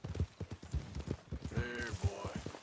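Hooves of Smoke, an Appaloosa in Red Dead, clip-clop in a steady brisk rhythm of close, thudding beats, with a short voice-like cry rising briefly in the middle.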